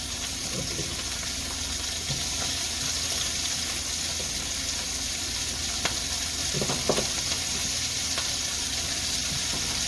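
Garlic and pepper sizzling in a pan for chicken cacciatore, with flour bits from earlier browning, a steady, loud, close frying hiss carrying a few soft clinks and stirring knocks.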